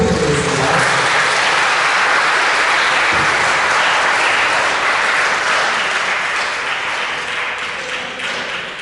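A large audience at a school mentor–mentee matching ceremony applauds steadily for a company CEO being introduced as a mentor, a dense wash of clapping that holds for the whole stretch and fades slightly near the end.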